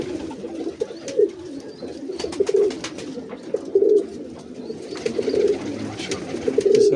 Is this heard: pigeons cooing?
yes